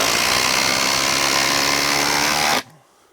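A power tool drives a Milwaukee Shockwave impact socket at a retaining wall, a loud, steady, high-revving whir that cuts off abruptly after about two and a half seconds.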